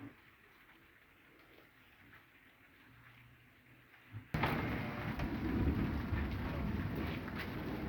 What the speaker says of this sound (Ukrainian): О, гримить і дощ капає.